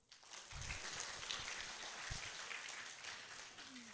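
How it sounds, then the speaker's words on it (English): An audience at an international seminar on cross-cultural awareness applauds, a dense, steady patter of clapping that holds for several seconds, with a few deeper thumps near the start. "Give it applause."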